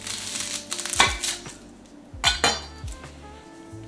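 A knife cuts through the top of a whole garlic head on a board, giving a couple of sharp, close thunks with light clinks of utensils among them.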